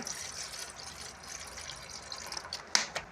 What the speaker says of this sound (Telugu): ఇలాగ చిన్న ఇడ్లీ పాత్రలో కొంచెం వాటర్ యాడ్ చేసుకుందాం